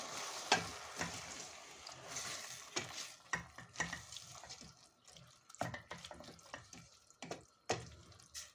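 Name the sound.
stirring water and salt in a cooking pot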